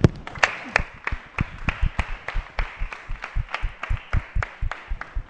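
Scattered hand claps from a small audience at a poetry recital, individual sharp claps in an irregular, fairly close rhythm that never swells into full applause.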